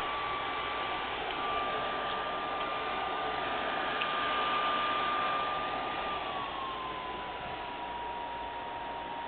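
An overheating PS3's cooling fan blows hard, a loud, constant whooshing roar with a faint steady whine riding on top that dips slightly in pitch partway through.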